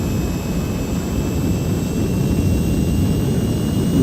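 Heinkel He 162 jet engine roaring steadily and loudly as power increases, a broad rushing noise with thin high whines running through it and no talk.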